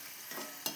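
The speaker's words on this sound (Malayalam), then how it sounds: "ഇത്രയും ഇട്ടിട്ട് നമുക്ക് വറുത്തെടുക്കാം." Potato chips deep-fry in hot oil, a faint, steady, airy sizzle with a slight swell near the end.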